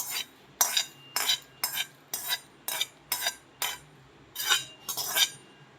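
Roasted niger seeds and sesame being scraped from a pan onto a plate with a metal spoon, about a dozen sharp, evenly paced scraping clinks with quiet gaps between them.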